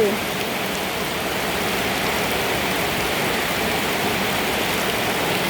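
Steady rain pours down in a continuous even hiss, with no breaks and no voices.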